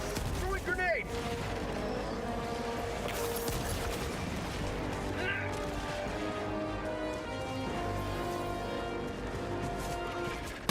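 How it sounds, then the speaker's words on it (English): Helldivers 2 combat with a thrown grenade going off amid heavy gunfire, booming blasts and rattling shots layered densely over a steady drone of game noise, with a player talking underneath. "Throwing grenade."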